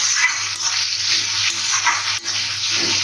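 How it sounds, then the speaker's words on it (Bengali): Onions fry in a pan in a home kitchen, a loud continuous close sizzle with a low steady hum underneath and no voices. "আর এখানে যে পেঁয়াজ ভাজতে দিয়েছি।"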